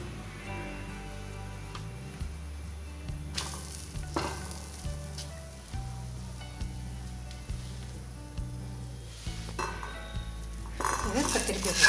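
An aloo paratha cooks on a hot griddle with oil, giving a continuous soft sizzle broken by light taps and scrapes of a spatula, and the sizzling surges louder at the end.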